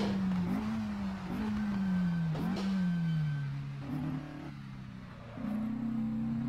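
A Porsche 718 RS 60 engine in Assetto Corsa revs with a low, gritty tone, its pitch climbing and dropping through several gear changes and heard alone at moderate volume.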